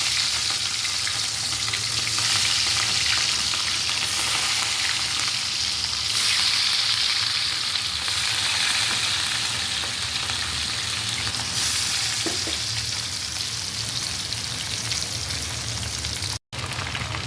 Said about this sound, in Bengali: খুব ভালো করে তেল গরম হয়ে আসলে দিয়ে দেবো রুই মাছ।